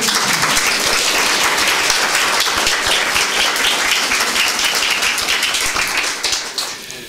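Audience applause at a parish poetry evening, a dense sustained clapping from a room full of people that carries steadily for several seconds before thinning out at the end.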